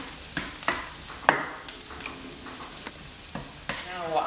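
Onions frying and caramelising in a pan give a continuous close sizzle, with repeated sharp scrapes and clinks of a utensil stirring at irregular intervals. No voices are heard.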